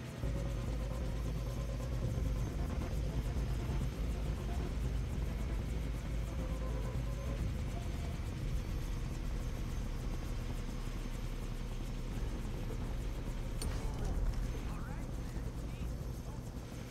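A helicopter in Far Cry 3 drones with a constant loud rotor rumble that fills the whole stretch, steady and close.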